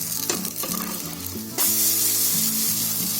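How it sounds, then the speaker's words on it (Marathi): Oil is poured in a ring around a spinach dal dosa on a hot pan, and a dense sizzle jumps louder midway and then keeps frying steadily up close, with no speech. "आता परत त्याच्यावरती आहे ना गोल तेल टाकायचं, सोडायचा"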